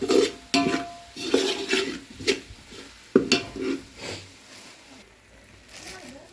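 A spoon scraping and clanking against a pot as ground roasted cumin-sesame masala is stirred into a village-style chicken curry, irregular stirring knocks at close range under a voice.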